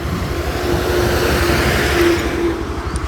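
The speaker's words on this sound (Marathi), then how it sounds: "गाडी बाजूक लावूया." Car pulling over and parking at a roadside near a temple in Malvan, Konkan, its engine a steady close rumble throughout with a faint hum, no voices.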